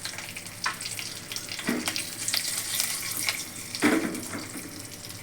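Curry leaves and asafoetida sizzle in hot oil for a Marathi buttermilk kadhi tempering, giving a steady crackling hiss with two sharper bursts of spattering partway through and no talk.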